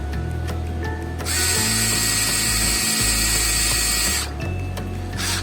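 A Bosch GO smart cordless screwdriver fitted with a Phillips head bit runs with a steady, close whirring drone, the motor note shifting pitch a few times before it stops and restarts near the end.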